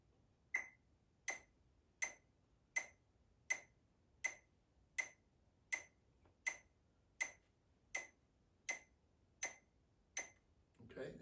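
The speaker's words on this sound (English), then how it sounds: "They have electronic metronomes, which I have here on my phone." An electronic metronome app on a phone clicks in a steady, even beat of about fourteen sharp ticks, crisp and fairly quiet, with nothing else heard.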